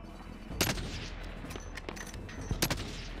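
Gunfire in the video game Call of Duty: Warzone, with two loud sharp bursts and several fainter shots scattered across a steady background of game ambience.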